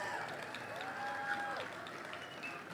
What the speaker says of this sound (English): Let's give the Coyote Springs Elementary School Choir another big round of applause.